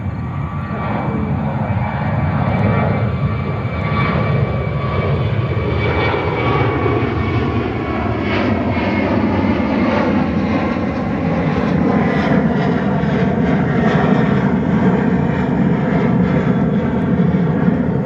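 A DHL cargo jet landing on runway 13 left at New York JFK roars steadily and loudly, with engine tones sweeping and shifting as it passes close by; no voices over it.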